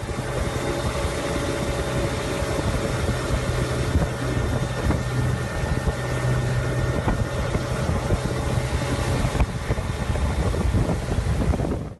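Motorboat towing a wakeboarder on open water, a continuous engine hum blended with heavy wind rush across the microphone, steady and fairly close, with no voices.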